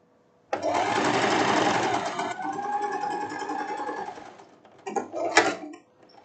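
A sewing machine finishing the narrow hem of a silk blouse runs in one steady, close burst of stitching for about four seconds, followed by a few short stop-start stitches.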